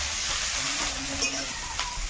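Onion and garlic with whole cumin go into hot oil in a kadai, giving a brief sizzle and crackle with small bursts of frying.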